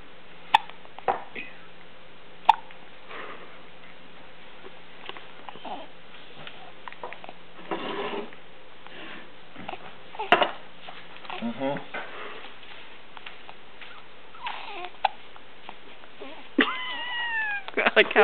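A cat hiccups in short repeated bursts mixed with soft meows and sniffs, close up, while people talk over it.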